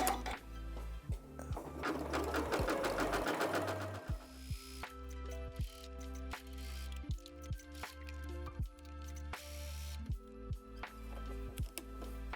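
A sewing machine runs steadily while stitching around a scrap-fabric gift tag, then gives way to short bursts of stitching with clicks and pauses, close and fairly loud.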